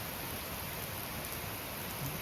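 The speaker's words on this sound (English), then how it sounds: "Pouring down rain and storms" Pouring rain from a storm in western North Carolina, a dense, loud, unbroken roar of drops with no pauses.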